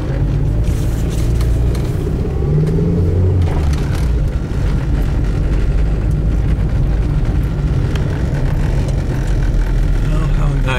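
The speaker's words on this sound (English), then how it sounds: "So I'm gonna do a stick shift and drive with one hand." A 1995 Toyota Corolla with a manual stick shift drives along, its steady low engine and road rumble filling the cabin continuously at a loud level, with brief shifts in tone partway through and no talking.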